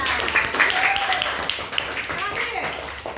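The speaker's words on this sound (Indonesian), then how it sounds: "Tepuk tangan dulu untuk Rasya." Schoolchildren in an elementary classroom clap together for a classmate, a steady burst of close, crowded hand claps that fills the room, with children's voices mixed in.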